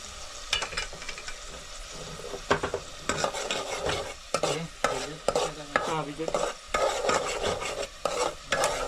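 A spoon stirs crab masala paste as it cooks in a pan, scraping and rasping in irregular strokes over a soft, steady sizzle, close up and without speech.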